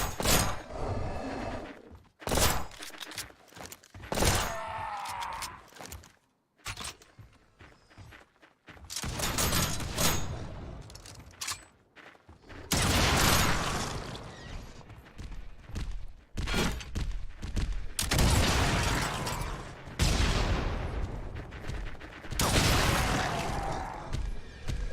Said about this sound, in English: I'm like one-shotting them. I have a hellish sniper rifle.